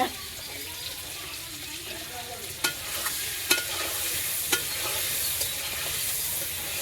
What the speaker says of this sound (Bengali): তো ডিমের সাথে আমি পেঁয়াজটা দিয়ে ভেজে নিলাম